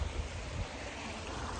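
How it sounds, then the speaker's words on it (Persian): A river flowing outdoors in the Ardabil countryside, heard as a steady, continuous broadband wash of water with a low rumble underneath, fairly close and without any talk. "حالا رودخونه رو ببینید، صدای آب میاد"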